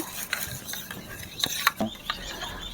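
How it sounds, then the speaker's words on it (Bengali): A spoon stirs powdered milk into milk, scattered light scraping and clinks against the container with a few sharp taps, close and fairly quiet, without speech. "এবারে ওই দুধের সাথে আমি গুঁড়ো দুধ দু চামচ দিয়ে দেব ভালো করে গুলে নেব"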